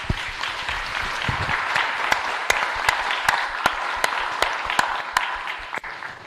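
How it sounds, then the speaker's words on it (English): An audience claps after a central bank governor's panel discussion, with sustained applause and distinct sharp individual claps standing out over the dense background. "I would like to ask everyone to give you a big round of applause"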